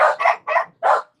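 Dogs bark indoors in four quick, loud, close yips and barks in a fast burst, with no talk.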